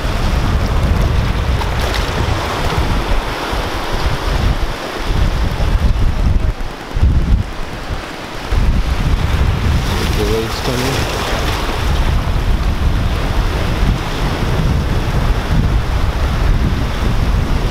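Ocean waves wash against the rocky shore at Sunken City in San Pedro, California, a continuous surf roar heavily buffeted by wind on the microphone, with brief quieter dips between surges.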